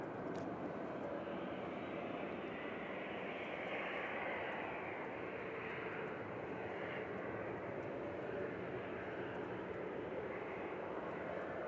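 An Airbus A321neo jet arriving from Istanbul at Manchester Airport gives a steady, broad engine roar that holds at an even level throughout, heard from a distance with no pauses.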